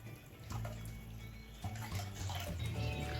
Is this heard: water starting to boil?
yes